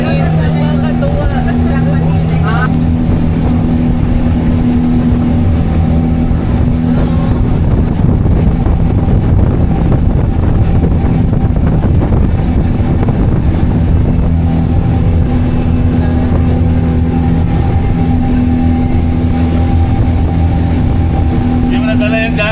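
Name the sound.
strong wind on moving speedboat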